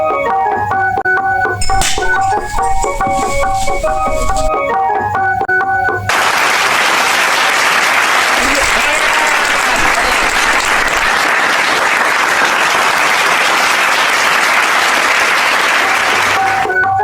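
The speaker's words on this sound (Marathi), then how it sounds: "टाळ्या." Villagers applauding at a sarpanch welcome ceremony, loud continuous clapping that bursts in after a stretch of music and carries on strongly to the end.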